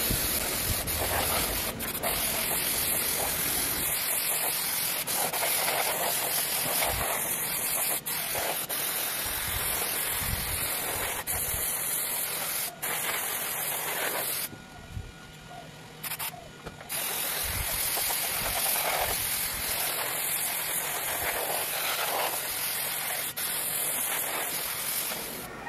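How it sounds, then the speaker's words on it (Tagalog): Recta spray paint in chameleon colors hisses from an aerosol can onto a placemat, loud and close in long continuous bursts with a brief pause midway and no talking. "Recta yung spray paint."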